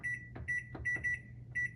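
A kitchen timer being set gives short, bright electronic beeps, single and paired, over a low background hum, with faint clicks from button presses in between.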